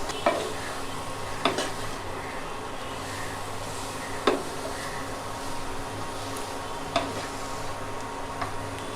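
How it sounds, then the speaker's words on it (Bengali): Tempered oil is stirred into ridge gourd in a pan, sizzling steadily while a spoon taps and scrapes the pan every few seconds. "বাগারের তেলটা কুশির সঙ্গে ভালো করে মিক্স করে দিব"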